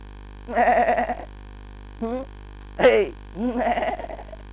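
A human voice imitates a goat's bleat in four short, wavering, nasal cries separated by brief pauses, close and clear against a quiet background.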